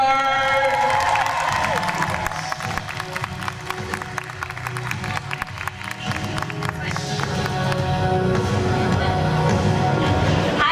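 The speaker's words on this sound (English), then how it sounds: "this man you should give a special round of applause for" Audience at a Lost Girl Comic Con panel in London applauding and cheering for the series creator, dense continuous clapping with shouts and whoops throughout, close and loud.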